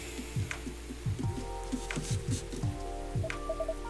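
Steady rain patters on a surface in the game Coffee Talk Episode 2: Hibiscus & Butterfly, with soft irregular drips and a low rumbling bed underneath, plus a few faint higher tones near the end.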